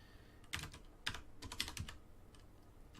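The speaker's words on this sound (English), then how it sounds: "the next thing I'm typing in is an @ symbol" Keys clatter on a computer keyboard as someone types in a short username and address, a few quick clustered keystrokes separated by brief pauses, close and fairly quiet.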